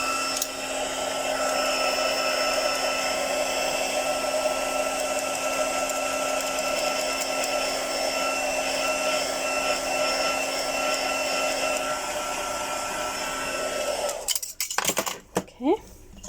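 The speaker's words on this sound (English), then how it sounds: "I'm going to dry it now with the heat tool" A heat tool blows a steady, loud whirring hum while drying an embossed stamped card, running continuously before clicking off, followed by a few light knocks.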